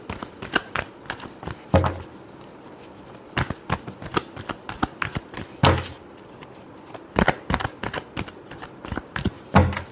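A deck of tarot cards being shuffled by hand, repeated crisp riffling bursts and soft taps in an irregular rhythm, close and fairly quiet with no talk.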